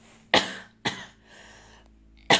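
Three forceful coughs in an uneven rhythm, close to the listener, separated by quiet breathy pauses, during a postnatal pelvic floor check.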